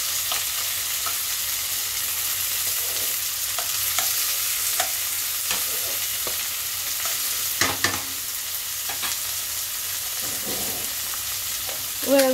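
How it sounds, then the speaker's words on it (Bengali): Tomato and onion frying in a pan for a Bengali mourola fish chorchori, a continuous close sizzle broken by stirring scrapes and clicks, with no one talking. "এটাকেও আমি একটু ভাজা করে নিচ্ছি"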